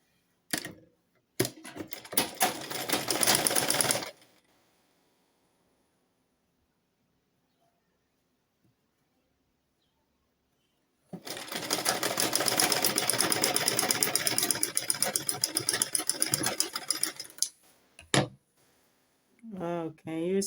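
A sewing machine stitches a corset in two runs of rapid, rhythmic mechanical chatter, close and loud, separated by a long quiet pause with a few handling clicks.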